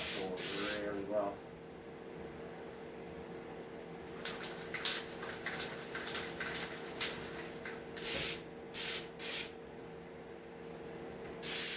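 A spray can lays light coats on a custom windshield for a Polaris RZR 900S UTV, in several short, close hissing bursts of varying length, separated by brief pauses.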